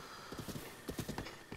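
Horse hooves clip-clop in the video game The Legend of Zelda: Breath of the Wild, a quick run of faint, evenly spaced steps lasting under two seconds, with no talking over them.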